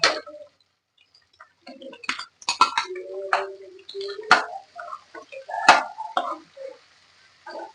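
Eggplant bharta with tomato, green pigeon peas and green onion is stirred in a pot, giving scattered close spoon clinks and scrapes against the metal in an irregular rhythm, with quiet gaps between.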